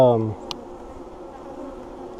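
Close, continuous buzzing of many honey bees at a hive during a hive inspection, a steady hum with a brief tap near the start.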